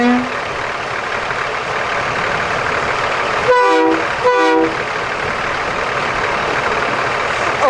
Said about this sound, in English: now we're going to have him do the original horn and then the train horn